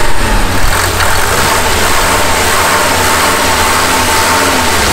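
A used car's engine idles steadily during an inspection before purchase, a low continuous rumble close by with slight unevenness, heard alone without talk.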